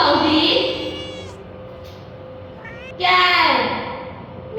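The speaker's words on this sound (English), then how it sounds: "cat. Meow, meow." A cat meows twice, a drawn-out cry at the start followed after a pause by a second loud, close meow, with faint background noise in between.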